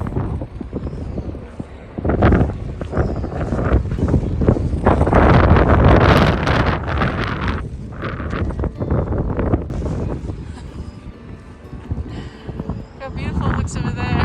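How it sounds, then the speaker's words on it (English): Strong gusts of wind roar and buffet the microphone on the Pacific Crest Trail, surging loudly in waves through the middle and easing, with a person speaking intermittently. "Wind gusts up to 50"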